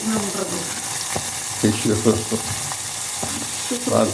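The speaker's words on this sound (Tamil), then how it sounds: "இது இந்த வெங்காயம் வதங்கிட்டே இருக்குது." Onion and tomato sauté in hot oil, producing a loud, steady sizzle with repeated scraping strokes of a spoon stirring the pan.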